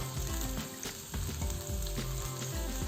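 Red chilli powder hits hot oil with tomatoes and garlic in a pan for a lamb curry, giving a dense, continuous sizzle with soft stirring scrapes over it, close and steady throughout.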